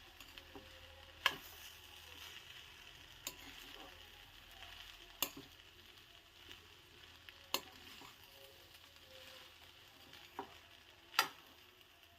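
Cooked rice with coriander being stirred in a pan, quiet soft scraping and sizzling with sharp ticks of the spoon against the pan every second or two, no talking.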